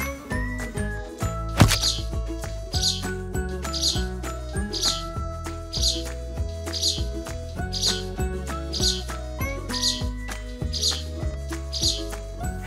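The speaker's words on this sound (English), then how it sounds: "How many sparrows do you see?" Sparrow chirps ring out as about eleven short bright calls spaced evenly over upbeat music, each chirp crisp and prominent, in a counting game for kindergarten children.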